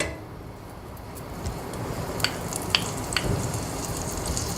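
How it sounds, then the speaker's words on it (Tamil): Four or five butter cubes melt in a hot pan for a soup, giving a soft, continuous sizzle and hiss broken by a few faint crackling ticks. "பாருங்கள், பேன் நல்லா சூடாயிடுச்சு. அதில் வந்து கொஞ்சம் வெண்ணெய் க்யூப்ஸ், சும்மா ஒரு 4-5 வெண்ணெய் க்யூப்ஸ் வந்து சேர்த்துக்கோங்க."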